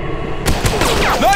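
Gunfire in the Android shooter Zombies Shooter 3D: a loud blast bursts in and is followed by a dense ringing rattle of shots and echoes lasting about a second.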